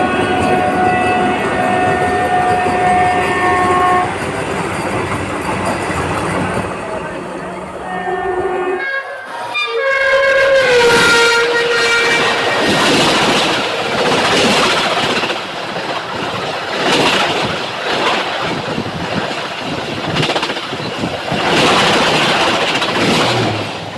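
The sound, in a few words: mini Vande Bharat express train arriving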